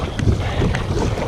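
Strong wind gusts buffet a kayak on a lake during bass fishing, a loud, steady roar of rushing air and microphone buffeting with no talking.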